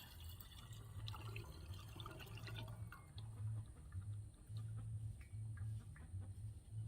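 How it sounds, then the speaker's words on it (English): Homemade extract liquid poured into a sterilized glass jar, a quiet trickling fill with soft splashes and drips, faint and close. "Pour it into the jar."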